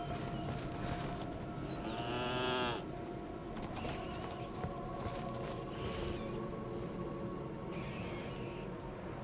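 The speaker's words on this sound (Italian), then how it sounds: "Ma anche le capre sono incazzose qui, le pecore." Goats and sheep bleating in the Elden Ring Shadow of the Erdtree video game, a couple of wavering bleats rising over a dense ambient game soundscape.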